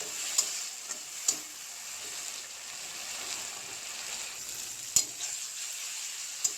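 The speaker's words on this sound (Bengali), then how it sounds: "অল্প করে একটু জল দিয়ে দিয়েছি যাতে পুড়ে না যায়, সুন্দরভাবে মরিচটা ভাজা হয়।" Chili spice paste with onion fries in a pan with a splash of water, a soft, steady sizzle heard up close, broken by a few sharp clicks of a spoon against the pan, with no voices.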